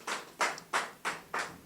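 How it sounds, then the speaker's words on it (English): Five separate claps or bursts of hand clapping at a steady rhythm at a civil society event honouring the President, fairly faint with no voices over them. "Please, a round of applause for Mr. President."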